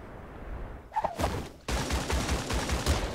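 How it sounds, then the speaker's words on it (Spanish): Rapid burst of gunfire-like blasts from rockets being fired in the PC video game Creative Destruction, a brief sharp crack followed by a dense, sustained volley with rhythmic low thumps, loud and close with no talking. "Está tirando cohetes ahí."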